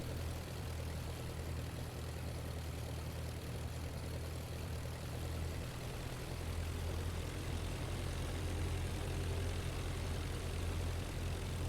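Simulated WWI aircraft engine in IL-2 Flying Circus, running steadily with power held on through a sideslip landing approach: a loud, continuous low droning hum that holds even throughout, with no speech over it.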